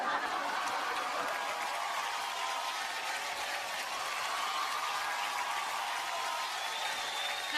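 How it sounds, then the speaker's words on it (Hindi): Sustained applause from a large awards-show audience, dense and steady throughout at an even level, with a few scattered chuckles mixed into the clapping. "तालियां होनी चाहिए।"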